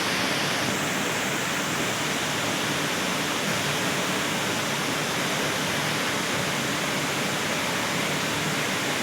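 Floodwater rushing from an overflowing canal during heavy rain in a hilly area, heard as a loud, dense, unbroken roar of moving water that stays constant throughout with no voices.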